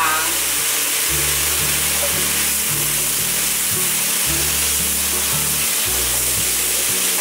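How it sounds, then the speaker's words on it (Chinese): Turmeric and tofu skin paste being stir-fried in a hot pan, heard as a loud, constant sizzle with a rough scraping texture and a steady low background hum, close and uninterrupted, with no talking. "把姜黄和豆包浆炒均匀， 炒干炒香后，就可以关火"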